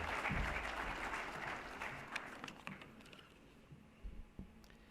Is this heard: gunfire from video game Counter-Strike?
no